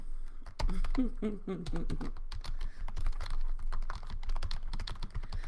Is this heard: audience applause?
no